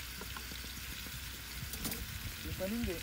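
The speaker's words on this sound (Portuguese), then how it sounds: "fritar essa chuletinha" A small pork chop fries in a pan at a family riverside campsite, with a steady close sizzle and crackle and a voice speaking briefly near the end.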